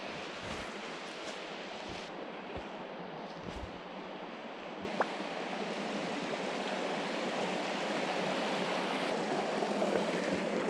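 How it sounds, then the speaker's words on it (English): Brontë Waterfall on the moor: a steady broadband rush of flowing water, constant and fairly near, rising slightly in strength partway through, with a touch of wind noise and no voices. "we're about to pass by Brontë Waterfall"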